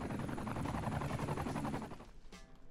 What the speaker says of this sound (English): now we got 10 helicopters